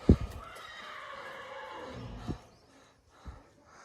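A mare neighs close by near a stable yard on a hot day, a loud whinny at the start followed by quieter snorts and hoof or movement sounds, with no talking.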